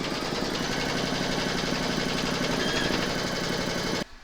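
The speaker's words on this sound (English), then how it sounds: "you're going to stitch round number 1, and that's going to give you your placement outline for your batting" An embroidery machine stitches a placement outline for a Valentine's coaster, a fast, steady mechanical chatter that is close and even, stopping abruptly just before the end.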